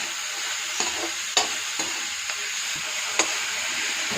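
Chopped carrots and beans stir-fried in a pan for street-style veg paneer masala fried rice give a loud, steady sizzle, with a few sharp scrapes and clacks of a spatula stirring through it. No one speaks.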